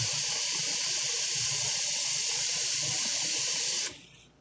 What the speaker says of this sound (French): Là, j'ai pris de l'eau froide du robinet.